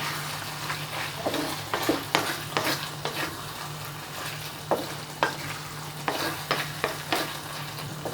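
Okra (bhindi) with amchur powder is stirred in a frying pan: repeated, irregular spatula scrapes and taps over a steady low sizzle, close and moderately loud.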